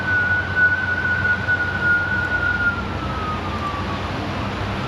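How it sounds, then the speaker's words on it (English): A fake police siren mounted on a van roof wails at a steady pitch that slowly drops, heard from a distance over a constant background rumble. "He's got a fake siren on his roof, on his van, so it sounds like a police car."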